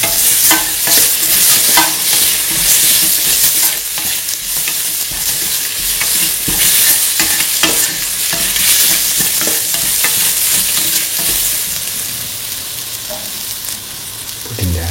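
Garlic and tomato pieces sizzle steadily in a hot pan while being stir-fried, with continuous frying hiss and occasional stirring scrapes throughout and no talking.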